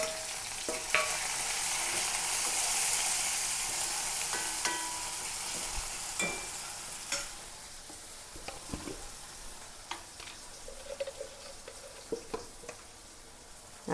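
Crushed garlic, onion and green chili for koorka mezhukkupuratti fry in hot oil with a bright, steady sizzle that fades gradually, broken by scattered clicks and scrapes of stirring.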